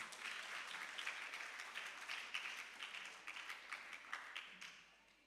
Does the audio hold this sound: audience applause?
yes